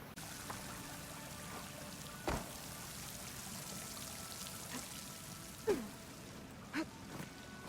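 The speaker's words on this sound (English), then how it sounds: "That waterfall must be coming from somewhere." Waterfall in a PlayStation 4 video game: a steady wash of falling water fills the scene as a constant rushing bed, with a few brief louder splashes or thuds breaking through.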